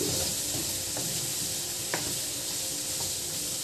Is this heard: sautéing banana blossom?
yes